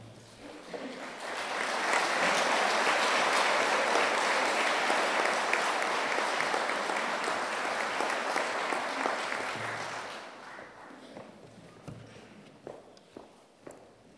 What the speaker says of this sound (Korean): 나오실 때 여러분 큰 박수로 맞아주시길 바랍니다.